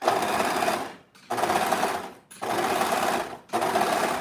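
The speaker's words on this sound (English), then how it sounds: "I'm serging all of the pieces because I'm seeing that the fabric is starting to fray" A serger overlocks the frayed fabric edges of tiered mini skirt pieces, running loud and close in four steady bursts with brief pauses between them.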